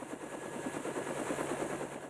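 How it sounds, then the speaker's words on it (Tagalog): A helicopter flies nearby with a rapid, pulsing rotor chop that beats evenly under a steady whine, moderately loud and constant throughout. "Sakay ng helicopter si Mang Tony"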